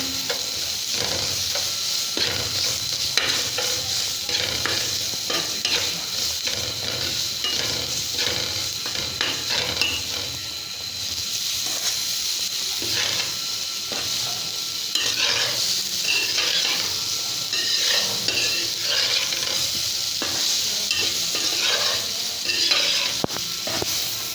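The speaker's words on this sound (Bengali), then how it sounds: "একটু লবণ দেব, নাড়াচাড়া করে" Soybean curry stirred with added salt in a pan, a steady sizzle under repeated scraping and clinking of a spoon against the metal, continuous and close throughout with no voices.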